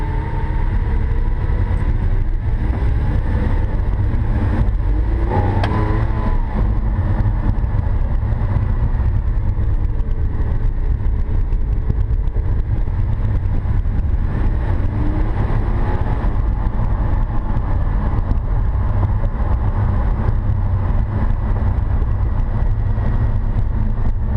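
A Lamborghini Aventador pulling away at low speed, its engine a steady, loud low rumble throughout, with faint shifts in pitch as it moves off.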